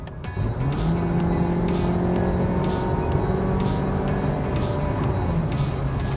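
A Honda CR-V engine pulls steadily under load, a sustained drone with a rising tone held close and loud for several seconds, no talking over it.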